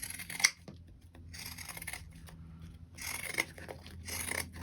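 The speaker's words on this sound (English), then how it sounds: "I would recommend just using pinking shears or something like it on these curves" Pinking shears snipping fabric seam allowance on curves while making a backpack, several crisp cutting bursts with quiet rustling of cloth between them, close and fairly soft.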